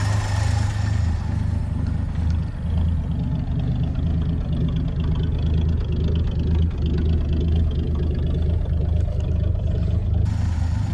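A 1966 Chevy C30 truck engine idling with the choke off, a steady, smooth low rumble that runs close and continuous throughout, with no talking.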